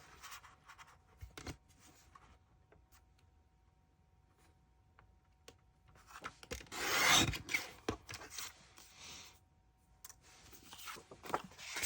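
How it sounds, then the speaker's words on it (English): Fabric being cut into 1-inch strips, quiet rubbing and rasping cuts in scattered bursts, with a louder, denser stretch of slicing in the middle and soft clicks in between. "And now we'll just go ahead and cut 1-inch strips."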